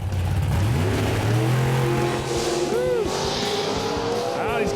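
Drag racing car making a pass down the strip, engine howling as it rises through gears with pitch climbing and dropping at shifts, loud and sustained, with crowd and announcer-style voices mixed underneath.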